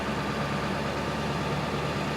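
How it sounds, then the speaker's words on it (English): A Ford 7.3 Powerstroke diesel engine idles with a steady, loud, low rumble close by, holding an even level throughout. "Engine speeds up around almost 1100."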